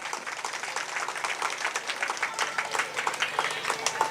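Audience applause at a temple lecture, a moderate, even patter of many hands clapping at some distance, heard alone.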